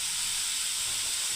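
Steady hissing sizzle of food frying in a pan on a gas flame, constant and close, with no talk.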